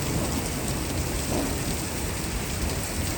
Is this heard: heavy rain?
yes